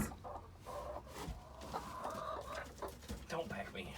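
A hen clucks inside a chicken coop nesting box filled with fresh hay while being pushed in, with soft repeated clucks and scuffling close by under intermittent talk.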